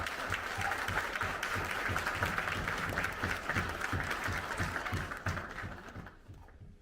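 A conference audience applauds in sustained, loud clapping that holds steady for several seconds, then gradually fades away.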